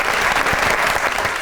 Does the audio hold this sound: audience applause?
yes